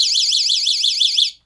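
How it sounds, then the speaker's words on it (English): High-pitched warbling alarm from a self-defense keychain, a loud piercing siren that rapidly sweeps up and down in pitch, then cuts off abruptly near the end, with no voices. "do a really high-pitched alarm"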